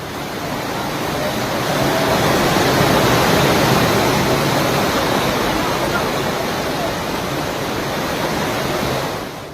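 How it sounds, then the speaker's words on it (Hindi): Floodwater from heavy rain in Jaipur pours down temple steps in a loud, continuous roaring torrent, rising in strength and holding steady before fading slightly at the end. "पानी की आवाज आप सुनिए, डरा देने वाली।"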